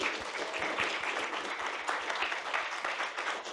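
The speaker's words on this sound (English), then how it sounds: "let's give a big round of applause again for everybody who presented tonight." An audience applauds steadily, a dense wash of clapping hands filling the whole moment.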